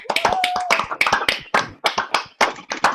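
Several people clap over a Zoom call for singers at an online ballad concert, with close, uneven bursts of hand claps that overlap and trail off in ragged rhythm.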